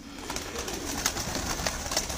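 Pigeons coo softly and steadily, a faint, low murmuring flock with a few sharper chirps or flutters breaking through; no one speaks.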